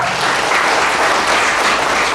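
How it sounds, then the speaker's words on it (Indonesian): An audience claps together at a youth event with a deputy regent, a dense, even wash of applause held at a steady loudness from start to finish. "tepuk tangan buat kita semua ya"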